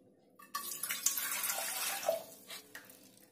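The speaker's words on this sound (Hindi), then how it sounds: "सबसे पहले हम काढ़ा बनाने के लिए एक बर्तन ले लेंगे और उसमें जो हम पानी डालेंगे" Water pours steadily into a cooking pot while making kadha, an herbal immunity drink. After a brief quiet start, a close, hissing, splashing stream runs on, then thins and wavers near the end.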